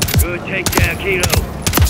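Enemy gunfire in Call of Duty: Modern Warfare III, a few sharp separate shots at a steady pace mixed with mechanical clinks and tonal game effects, fairly close.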